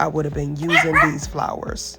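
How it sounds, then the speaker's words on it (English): A dog yips and whimpers in short, high bursts close by, mixed under someone talking throughout. "Please excuse my dog"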